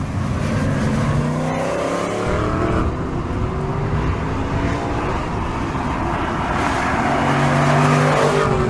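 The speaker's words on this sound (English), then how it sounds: "The engine is not the last word in sophistication, it must be said, but it makes a lovely, throaty," A 2014 Aston Martin V8 Vantage N430 with a manual gearbox lets out a loud, throaty V8 roar, revs climbing and dropping through gear changes as the car drives hard, heard close up.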